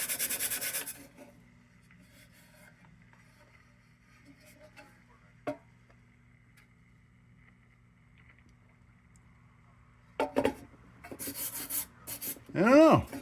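Old paint is scraped off a Simmons Liberty lantern in a few short, rough rasping strokes, mostly at the start and end, with a long quiet stretch between them.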